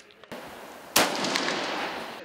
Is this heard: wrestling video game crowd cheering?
no